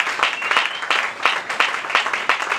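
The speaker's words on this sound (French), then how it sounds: "Acclamons pour la parole du Seigneur" Applause from a church congregation at a Sunday service, a steady wash of many hands clapping with rhythmic pulses, moderately loud and close, with no talk over it.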